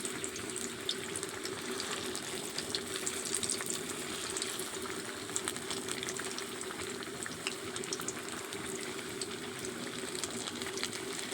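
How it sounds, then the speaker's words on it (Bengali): Iftar snacks fry in hot oil until crisp, giving an even, unbroken sizzle and crackle that runs steadily throughout at moderate volume. "ভালো করে মুচমুচে করে আমি এগুলো ভেজে নেব লাল লাল করে।"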